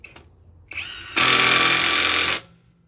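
A Harbor Freight Hercules impact wrench, a cordless tool being tested, gives a short trigger blip, then a loud, steady rattling hammer run of about a second and a quarter before stopping, close to the microphone.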